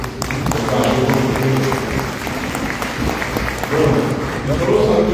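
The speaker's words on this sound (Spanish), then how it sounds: "Creo que un aplauso para ustedes." Audience applause at a school event for young people from educational institutions, steady dense clapping from a sizeable crowd lasting throughout, with a few voices mixed in.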